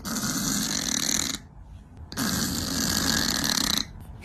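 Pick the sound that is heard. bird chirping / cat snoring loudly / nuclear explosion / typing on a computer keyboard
cat snoring loudly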